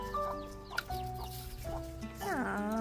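A chicken at the Hagood Mill Historic Site in Pickens, South Carolina, clucks in short bursts in a garden, close and moderately loud, with a longer run of clucks near the end.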